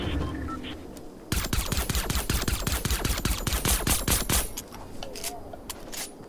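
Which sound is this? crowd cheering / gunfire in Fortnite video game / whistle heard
gunfire in Fortnite video game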